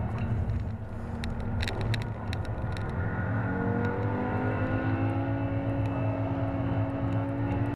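Porsche 991.2 GT3 and Lotus Evora GT430 race side by side through a circuit's bends, a steady loud engine roar with rising and falling tones as they accelerate, with no voices.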